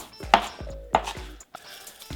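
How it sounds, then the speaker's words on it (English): A knife chopping vegetables on a board for zucchini soup, three or four crisp, distinct close knocks spaced unevenly across a couple of seconds, with no voices. "We're gonna chop some veggies."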